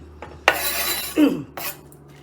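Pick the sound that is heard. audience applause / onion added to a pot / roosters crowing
onion added to a pot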